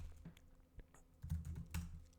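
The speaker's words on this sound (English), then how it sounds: "I type Docker images" Computer keyboard typing at a desk: a quiet, uneven run of soft key clicks, sparse at first and then quicker and slightly louder clusters, with no voice over it.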